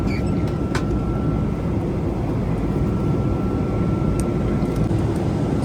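Steady, loud cabin drone from a small passenger airplane in flight, a constant broadband rumble that stays even throughout.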